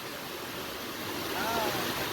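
Water overflowing from Bhivapur Lake in a forested spot near Amravati, a steady rushing roar that swells slightly toward the end, with a faint whistle-like tone over it.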